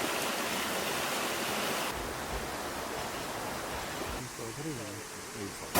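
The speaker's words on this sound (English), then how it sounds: "And here's the base of the waterfall." Dolgoch Falls, a modest waterfall in mid Wales, heard at its base as a steady, loud broadband rush of falling water, with someone speaking over it toward the end.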